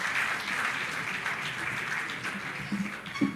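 A crowd at a Nigerian youth political inauguration conference applauds a donation announcement, sustained, dense clapping that stays steady and fairly loud throughout, with a few sharper claps near the end.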